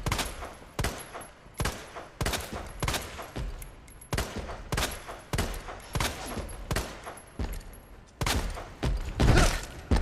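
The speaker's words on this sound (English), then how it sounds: "How's your reaction to a shotgun to the face?" Shotgun blasts in the video game Resident Evil 2, a series of heavy, booming shots at a steady, slightly irregular pace, each followed by a brief mechanical pump or reload sound, loud and close without talk.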